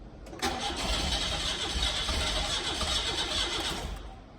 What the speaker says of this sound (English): Come to the engine, crank the engine. About 4 or 5 cranks maybe.